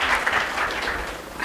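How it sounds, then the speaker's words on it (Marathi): Audience applause at a 2023 Marathi poetry recitation event, a steady, full burst of clapping from a seated crowd that holds evenly for its whole length with no voices over it. "जोरदार टाळ्या झाल्या पाहिजेत मॅडमसाठी."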